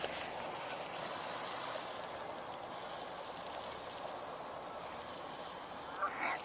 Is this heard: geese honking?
yes